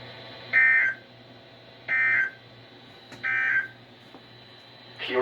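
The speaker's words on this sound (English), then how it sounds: "the National Weather Service has just activated the public warning alarm tone in the test of the" NOAA Weather Radio warning alarm tone during a required weekly test, heard as three loud, steady beeping tone bursts about a second long with a fourth starting at the end, over a faint background hum.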